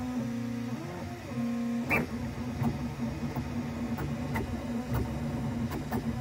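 A QIDI TECH Q1 Pro 3D printer hums steadily after a nozzle purge, its stepper motors whining in shifting tones with a few soft clicks and ticks, close and moderately loud throughout.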